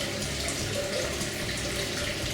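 Hot spring water pours steadily into a bath at a Japanese ryokan, a constant rushing, splashing flow that stays even and fairly loud without pause.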